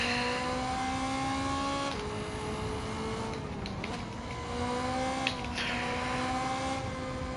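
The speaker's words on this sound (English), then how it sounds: "Hear that whooshing sound in the cockpit of the car? That's the turbocharger building boost pressure." Turbocharged race car in Gran Turismo 7 heard from the cockpit, a steady engine drone with rising and falling whooshing boost tones that swell and dip across the lap, continuous and fairly loud.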